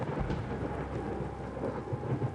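Steady rain pours in The Séance of Blake Manor, with a low rumble of thunder rolling underneath, an even, moderately quiet wash of sound with no voices throughout.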